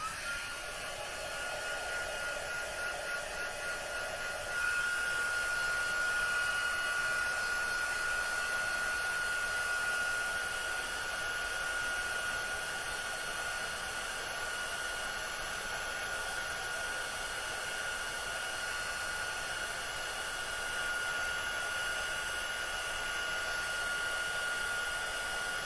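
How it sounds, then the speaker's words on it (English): A handheld heat tool blows a steady, continuous whooshing hiss for the whole stretch as it heat-sets a paper craft project, with no talking over it. "And then I'm going to heat set this as well."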